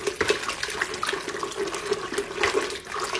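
Plaster and water are whisked together in a container for a 3D panel mold, giving a wet sloshing sound with quick, regular tapping strokes at close range.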